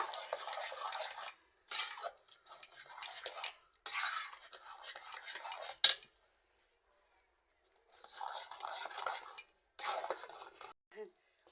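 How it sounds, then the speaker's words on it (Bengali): Rice flour batter for burnt pitha cake is stirred and kneaded by hand in a bowl. It gives bursts of close, soft scraping and squelching that come in uneven stretches and break off into short silences. "বন্ধুরা দেখো আমি এইভাবে মেখে নিচ্ছি ভালো করে ভালো করে নাড়তে হবে"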